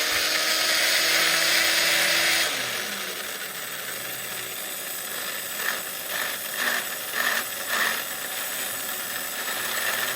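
An RC car motor on a dyno gives a loud, high-pitched whine that drops sharply in pitch after a couple of seconds, then keeps spinning down on a one-way bearing with a rough mechanical hum and a few faint pulses.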